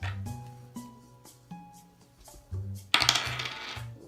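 Dice rattling and clattering onto a table during a tabletop board game, several sharp clicks and bounces over a few seconds, ending in a louder burst of tumbling, close and distinct, with no talk.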